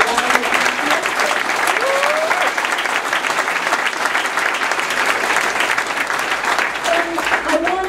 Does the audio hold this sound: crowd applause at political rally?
yes